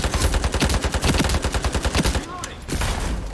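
Rapid automatic gunfire in the online shooter Ironsight, a loud close burst of evenly spaced shots that runs for most of the moment before a brief pause and a few more reports.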